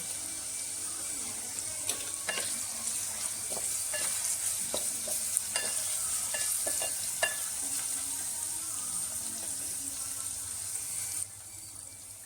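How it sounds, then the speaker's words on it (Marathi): Vertically sliced onion fries in oil over cooked ginger paste for a spicy black mutton gravy, a steady hissing sizzle punctuated by frequent sharp clinks and scrapes of a spoon stirring against the pan. "यात आता मी उभा चिरलेला कांदा घालून घेते"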